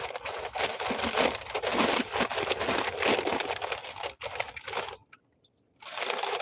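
Close, loud crunching chews of crunchy fresh food from a double cheeseburger meal in quick irregular bursts, then a brief pause before chewing resumes.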